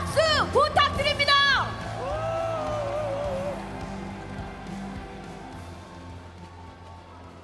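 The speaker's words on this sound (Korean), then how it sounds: "힘찬 박수 부탁드립니다." A party convention audience greets newly elected ruling-party leader Jeong Cheong-rae with steady applause and scattered cheers, a broad crowd wash that follows brief voices and shouts up front and holds evenly to the end.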